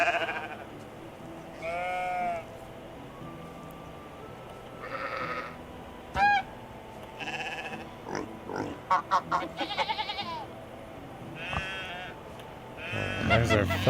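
Sheep bleating in the medieval farming game Medieval Dynasty, several drawn-out, wavering bleats and some grunting animal calls spread across the stretch, moderately loud over quiet game ambience.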